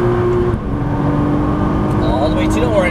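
A Nissan GT-R on a Las Vegas race track roars loudly and close from inside the cabin. Its engine pitch drops sharply at an upshift, then climbs again under hard acceleration, with a voice talking over the engine.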